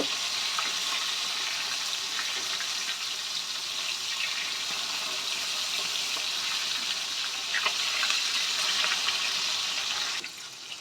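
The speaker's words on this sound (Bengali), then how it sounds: "এবার আমরা আস্তে করে উল্টে এই পিঠটাও ভেজে নেব।" Katla fish pieces frying in oil in a pan, a steady dense sizzle and crackle running loud and continuous throughout, briefly dropping a little near the end, with no talking.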